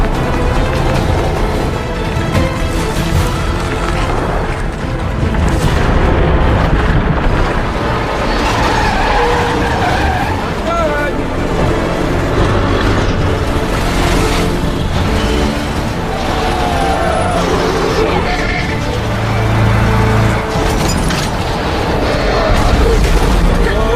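Heavy trucks skid and overturn on a frozen ice road in a film scene, with loud, continuous tire scraping, engine roar and heavy impacts filling the whole stretch.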